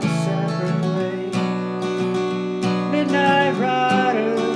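Guitar plays the chorus of a song, a steady, full strummed passage with dense sustained chords and regular accented strokes, close and continuous without speech.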